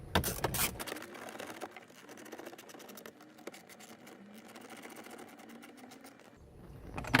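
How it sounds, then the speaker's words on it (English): Socket wrench driving screws back into the dash tray of a 2018+ Ford Expedition: a soft, rapid ratcheting clatter running steadily, fairly quiet, with louder handling noise at the start and end. "We use our socket wrench to put them back in."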